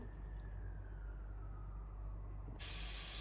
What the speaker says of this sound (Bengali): এটাকে এখন আমি ডেকে দিব। এভাবে আমি এটাকে ফুটিয়ে বয়েল করে নিব।